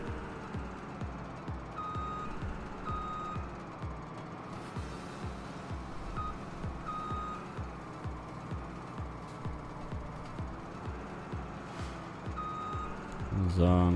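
Combine harvester in the Farming Simulator 17 video game backing up, a steady train of evenly spaced reversing beeps over a constant engine drone, with a louder thump at the very end.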